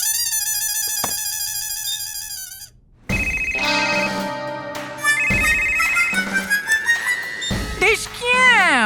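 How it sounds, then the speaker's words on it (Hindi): A telephone rings in a Hindi comedy sitcom scene, a repeating electronic ringtone melody starting alone, then continuing over background music with brief pauses between bursts. "मैं अभी जाकर इंस्पेक्टर ढिशक्याओं भाई को फोन लगाती हूँ।"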